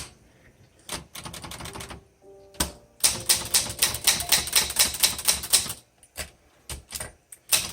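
Typing on a 1960s Underwood 21 manual typewriter: bursts of sharp, close key strikes in a quick irregular rhythm, with pauses and a few isolated clacks, loud and alone with no voices.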